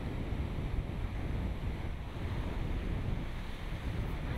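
Sea breeze and waves at Galle Fort, a dense, steady roar of surf mixed with gusting wind buffeting the microphone, loud and continuous with no voices.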